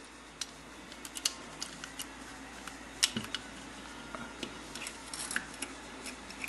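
Small metal parts of a 28mm Mikuni carburetor, including the slide and spring, are fitted back together with scattered light clicks and taps at close range in a quiet room.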